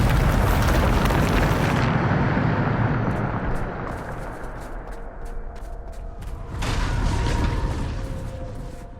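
The Bombarda spell in Hogwarts Legacy sets off a loud, close blast that rumbles and fades over a few seconds, then a second heavy explosion swells up and slowly dies away.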